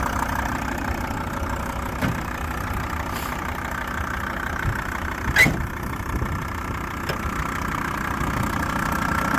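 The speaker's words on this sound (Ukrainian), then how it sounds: "Там мотор обслужений" A 1996 used van's engine runs at idle under the open hood, a steady even rumble heard up close with a few faint knocks and clicks scattered through it.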